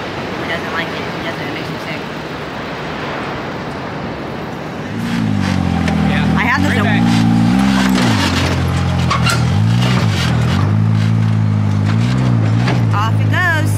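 A Can-Am vehicle's engine starts up loud and near partway through, then revs and throbs unevenly as it comes off a trailer, after quieter outdoor background at first.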